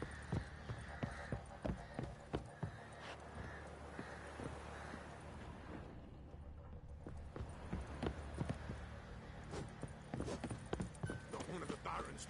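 Horse hooves clip-clop steadily through Novigrad in The Witcher 3 game, a continuous rhythmic trot under ambient city noise and occasional in-game voices.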